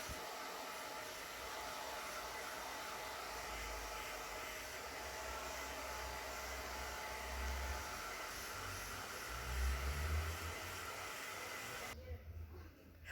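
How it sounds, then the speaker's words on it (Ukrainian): A hair dryer blows in a continuous whooshing roar for over ten seconds, drying a mango stone, then cuts off abruptly near the end. "Потім висушити феном."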